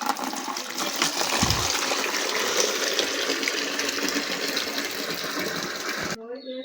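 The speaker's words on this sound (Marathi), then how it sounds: "टाकीतून पाणी भरूया." Water fills from a tank in a steady, close rushing stream that runs nearly the whole time and then stops abruptly, with a voice briefly heard at the end.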